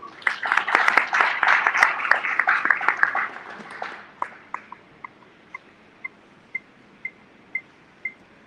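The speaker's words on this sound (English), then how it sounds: "A round of applause." A small audience applauds at a formal presentation event, a dense burst of clapping that thins out into a few single claps spaced about half a second apart.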